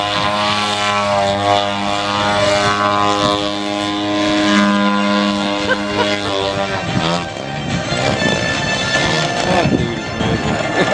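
A gasoline-powered R/C Extra 300 model airplane with an engine of roughly 100 to 180 cc flying 3D aerobatics at an Indianapolis airshow, its loud buzzing propeller drone swelling and shifting pitch, with people talking beneath it.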